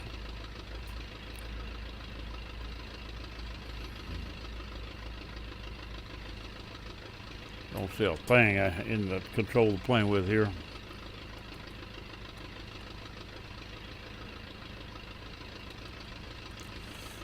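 A small airplane engine idles steadily on the ground at a mountain airstrip, a continuous low drone running throughout, with a person briefly talking over it midway.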